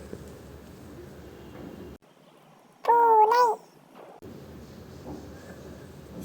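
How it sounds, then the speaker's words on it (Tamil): A single short cat meow, clear and close, rises over a quiet gap between soft background sounds. "இது பூனை."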